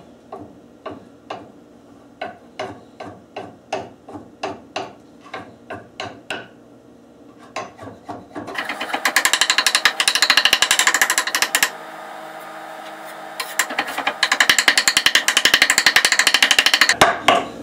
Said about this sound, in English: I'm just gonna chop this like that